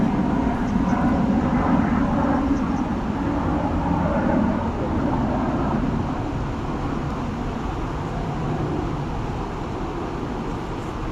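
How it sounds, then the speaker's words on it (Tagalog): A jet fighter roars overhead beside a river, a steady broad rumble that stays loud throughout before easing slightly, with no clear talk over it. "Jet fighter."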